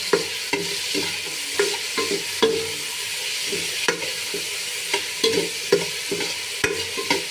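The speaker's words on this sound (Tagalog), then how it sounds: "atin ang ginisa yung sibuyas at kamatis" Onion and tomato being sautéed for sinigang sizzle softly in a pan, broken by repeated close scraping and clacking strokes of a spatula at an irregular pace, with no talk.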